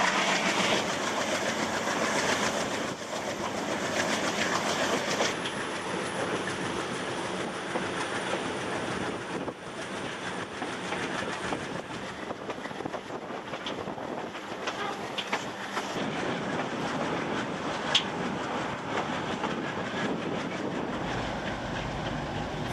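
A train climbs a mountain railway line in Peru, a steady rumble of wheels and carriages with faint clicking and occasional squeals, continuous and moderately distant, with no voices.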